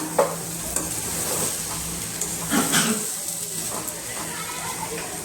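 Upma being stirred in a pan during cooking, with soft scraping strokes and a light sizzle running steadily underneath, close and moderately loud, while a voice speaks over it.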